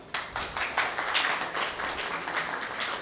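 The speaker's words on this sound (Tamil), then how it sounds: "கைத்தட்டுங்க." An audience claps at a Hindu religious gathering honouring Abhinava Vidya Tirtha Mahaswami, a ragged burst of applause with distinct hand claps that starts sharply and continues steadily at moderate volume.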